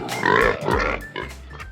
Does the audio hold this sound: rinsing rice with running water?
no